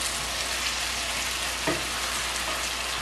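A pan of vegetables for an Ethiopian vegetable stir-fry fries with a dense, steady hiss filling the room, with one brief stirring scrape partway through and no talk.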